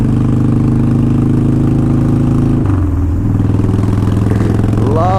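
A 2005 Harley-Davidson Wide Glide V-twin idles and runs with a loud, steady low rumble and lumpy firing pulses throughout, dipping briefly midway before a rising rev at the end, with no talking.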